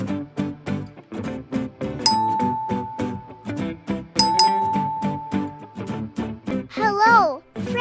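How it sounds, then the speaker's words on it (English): A bright notification bell dings twice, each chime ringing out and lingering, layered over an energetic child-oriented voice speaking throughout, followed by a rising whistle-like sound effect near the end. "don't forget to ring the bell."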